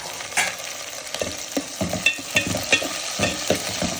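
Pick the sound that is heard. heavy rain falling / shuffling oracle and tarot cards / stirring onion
stirring onion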